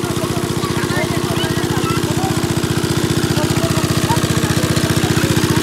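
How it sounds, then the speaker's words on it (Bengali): An engine-driven water pump drains a sunken river boat. Its motor runs with a steady, fast chugging throb, close and loud, alongside the wash of water. "দেখুন মেশিন দিয়ে পানি সেচ দেওয়া হচ্ছে কিন্তু।"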